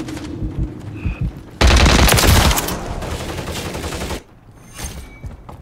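Loud burst of automatic gunfire in a shooter video game, a dense rapid volley lasting a couple of seconds and then tapering into scattered shots and game effects.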